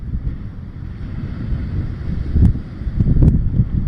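November storm at the Brighton Marina seafront, with gusty wind buffeting the microphone in a low rumbling roar and waves crashing and surging, building into louder bursts toward the end.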